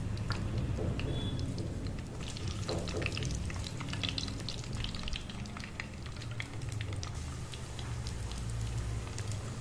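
Garlic cloves and fenugreek seeds fry in oil for fish curry, a dense crackling sizzle that stays fairly even throughout, close by, with no one talking.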